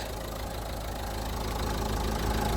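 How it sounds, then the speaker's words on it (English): A Dacia Duster engine idles nearby with a steady, low, even rumble, alone and unchanging for the whole stretch. "yeah, the engine runs pretty smooth"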